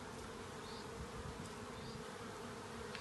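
Bees fly around a beehive at an apiary, a continuous close buzzing hum of many insects, steady and fairly quiet, with no voices.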